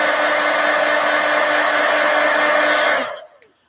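A hair dryer blows loudly and steadily, close by, drying a watercolor painting, then switches off and winds down near the end.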